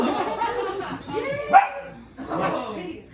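Eight-week-old puppies yip and bark in short bursts close by, mixed with a person talking over them.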